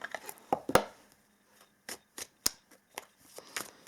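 A deck of witchcraft oracle cards is shuffled by hand, producing sparse, uneven papery flicks and taps separated by short silences, close and fairly soft, with no voices.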